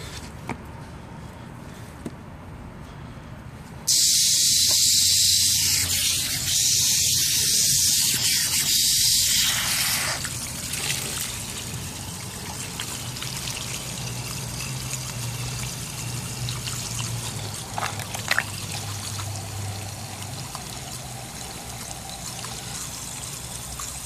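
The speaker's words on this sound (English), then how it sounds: "Get some water on here, see if we can defrost this." Water is poured over a Holosun HS403A red dot sight to defrost it: a sudden loud splashing pour that runs for several seconds, then tapers into a quieter trickle and dribble.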